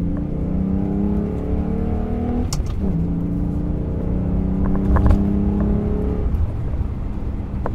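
A 2015 Volkswagen Golf GTI engine revs hard and steadily, pitch climbing through gears, with a brief shift break and a loud throaty tone throughout.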